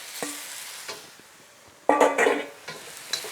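Beef tipped back into a hot wok and stirred, with a loud burst of sizzling and scraping near the middle after a quieter stretch of light clinks and crackle.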